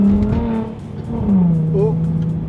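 A Jaguar XE S with a V6 engine and automatic gearbox revs in a few rising and falling surges, loud and close, with a voice talking over it.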